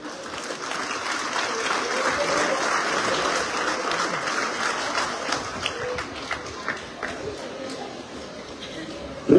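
Sustained crowd applause welcoming a delegation of El Gachupí at an awards ceremony honoring Indigenous and Afro-Mexican communities, steady and fairly distant with a few sharper claps near the end.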